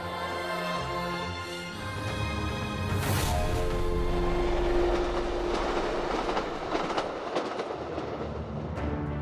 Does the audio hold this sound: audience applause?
no